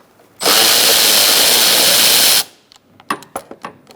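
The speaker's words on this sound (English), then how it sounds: "Now we're going to take out these two bolts using a 10mm socket." A power tool with a 10mm socket runs on a 2002-2006 Toyota Camry airbox bolt in one loud, steady two-second whir, followed by several sharp metallic clicks and taps up close.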